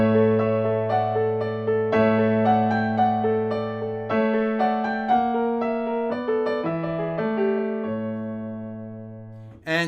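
A piano plays the second part of an Ode to Joy theme arrangement. The melody moves through clear, sustained notes over held bass tones and closes on a final chord that rings and fades.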